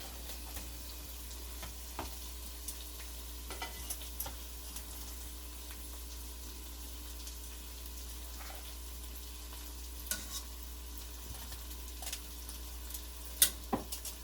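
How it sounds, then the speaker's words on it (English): Crab added to a pot cooks in a spiced Caribbean coconut curry with pumpkin, giving a faint, steady bubbling sizzle with a few light ticks and clicks, close but quiet, with no talk. "So now we are going to add the crab in the pot."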